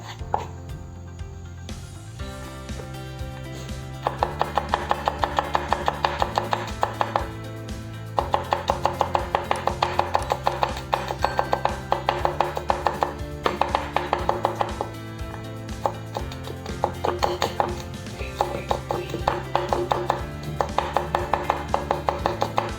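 Garlic chopped on a board with a knife, rapid even knocks in long bursts with short pauses, close and clear over a low background hum, no voices.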